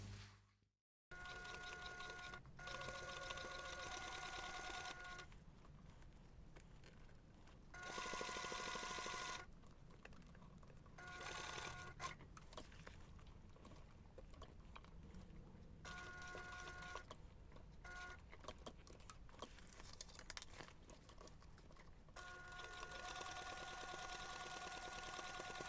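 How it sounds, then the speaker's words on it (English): A sewing machine stitches around the sides of a laptop bag in quiet bursts of rapid whirring, separated by short pauses. "you're going to take this to the machine and we're going to stitch around all sides"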